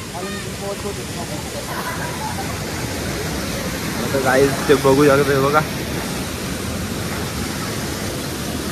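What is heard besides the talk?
spring water flowing out of the ground near cave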